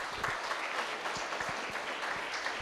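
A hall audience claps steadily at a Rotary Punjai Puliyampatti character-training camp in 2025, a dense close patter of many hands with no voices over it.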